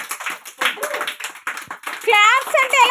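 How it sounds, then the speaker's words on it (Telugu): Young children at an Anganwadi preschool clap together in scattered, uneven bursts while an adult and kids talk over and between the claps. "పిల్లలందరూ క్లాప్స్ కొట్టండి"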